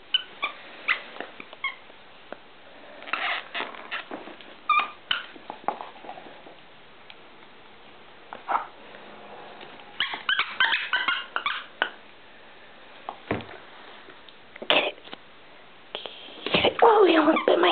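A big dog plays with new toys, including a squeaky rope, giving scattered barks, yips and whimpers, some close and loud, mixed with rustling and thumps as it plays, while a person talks at times.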